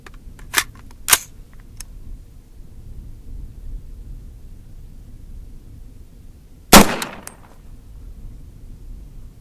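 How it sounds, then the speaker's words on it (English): A single sharp report of a .300 BLK 194-grain subsonic round fired from an 8-inch AR-15 upper at an outdoor range, loud and close with a short tail, preceded by a few faint clicks in otherwise quiet surroundings. "let's shoot it through my 8-inch AR-15.com upper"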